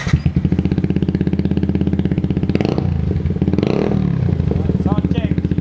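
A Yamaha R15 motorcycle fitted with an Akrapovic exhaust and resonator elbow revs up in quick rhythmic pulses, close and loud, the engine note rising and dropping with people talking over it.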